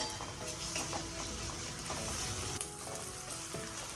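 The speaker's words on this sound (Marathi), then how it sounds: "आता आपण याच्यामध्ये अद्रक लसूण पेस्ट टाकूया। पेस्ट चांगली परतून घेऊया।" Ginger garlic paste sautéing in a pan after onions, with a steady broadband sizzle and a few scraping stirs, close and continuous with no voices.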